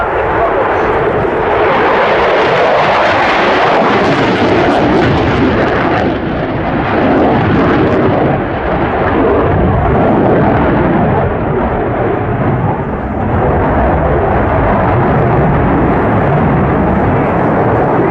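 Military jet aircraft in a flying display at RAF Fairford, a loud continuous engine roar sustained throughout, with an announcer's voice heard over it.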